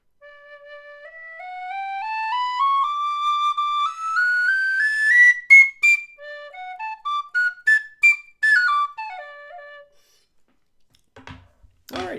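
A Tony Dixon single-piece polymer high D tin whistle, an under-$20 instrument, plays a close, clear melodic phrase alone. Notes climb steadily, then dance and fall back down, with a soft thump just before the end.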